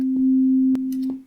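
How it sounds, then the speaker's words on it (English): A steady, pure electronic tone held at one pitch for about a second, with a few faint clicks before it cuts off. "that sound is called a sine wave."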